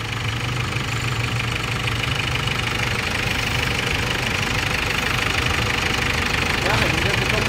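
A repaired Ford Everest 2011 engine runs steadily after rocker arm work, a continuous knocking idle rumble holding at a constant level throughout.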